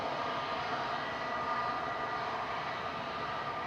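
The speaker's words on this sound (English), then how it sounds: "couple of EasyJets heading towards us now, straight down Tango" An EasyJet Airbus A320 approaches at Manchester Airport, a steady broadband engine roar holding at a constant level throughout, distant and unbroken with no voices.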